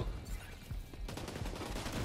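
Shotgun fire in the video game The Division 2 comes as a dense, loud fusillade of booming blasts, thickening after about a second into continuous rapid gunfire and explosions, with no talk over it.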